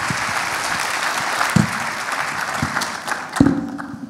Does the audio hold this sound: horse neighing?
no